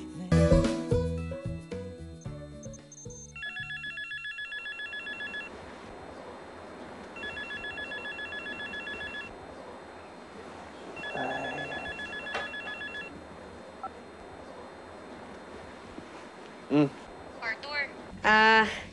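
A telephone rings in a Filipino TV show scene, repeated electronic ring bursts with pauses between them, following music and talk, with short voice sounds near the end.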